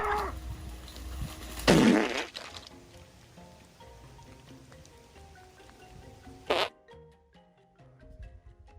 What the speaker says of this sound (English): The farts are starting to seep out